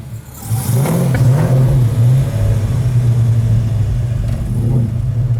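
A 1970 Hemi Dodge Charger V8 revving hard, a deep throbbing exhaust note swelling and falling in a couple of rev pulses before settling into a loud, steady rumble, close by.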